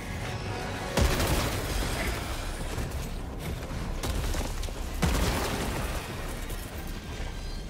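Grenade blasts in the co-op shooter Helldivers 2 amid a bug swarm: two sharp booming bursts about four seconds apart over a continuous din of gunfire and mechanical clatter, loud and close.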